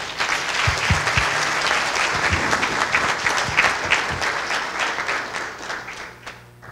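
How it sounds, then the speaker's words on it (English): Sustained applause from a crowd at a youth philanthropy grant presentation, dense clapping that holds steady for several seconds before tapering off at the end. "So round of applause for these individuals."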